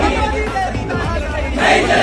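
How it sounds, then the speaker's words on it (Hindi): Crowd gathered at Jauhar University after a Jantar Mantar protest chants slogans together, a brief burst of raised voices swelling louder toward the end. "यहाँ नारेबाजी आपने सुनी"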